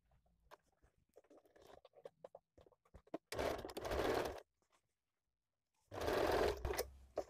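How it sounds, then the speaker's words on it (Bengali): A sewing machine stitches semi-Patiala salwar fabric in two loud, steady bursts of about a second each. Quieter handling and rustling fills the gaps before and between them. "এরপর দেখুন ঠিক সাইড থেকে আমি সেলাইটা করছি"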